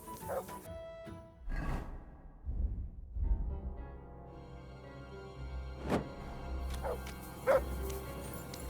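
A dog in the medieval role-playing game Kingdom Come: Deliverance barks and yips in several sharp bursts spread over a few seconds, close and fairly loud, with some whimpering and game ambience between barks.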